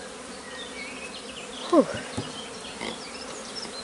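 Honeybees hum around a large beehive under a crown board, a faint continuous drone with brief louder passes close by and a short exhaled exclamation from a person.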